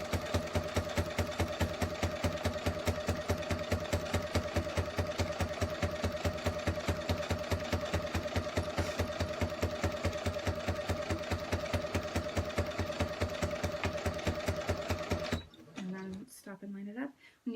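A sewing machine stitches quilt binding in a fast, even run of mechanical chatter, loud and close, for about fifteen seconds before stopping with a few handling noises.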